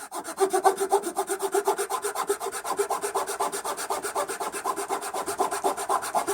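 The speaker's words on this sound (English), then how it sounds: "I'm going to probably want to use my Dremel, because I can put the lines where I want them" A Dremel rotary tool grinds on an RC plane landing gear part for an FMS P-51 Mustang, making a fast, even rasping pulse that repeats steadily and close, fairly quiet, with no talking.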